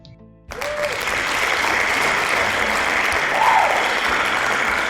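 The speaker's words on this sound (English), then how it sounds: "A big clap, class," Applause for a class after a science lesson starts abruptly after a brief quiet moment and carries on as a steady, loud wash of many hands clapping, with a faint tone briefly sounding through it.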